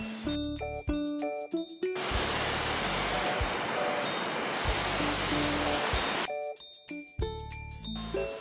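A waterfall on Big Boulder Stream in the Tai Mo Shan hills of Hong Kong, a broad steady rush of falling water that swells in the middle between stretches of music.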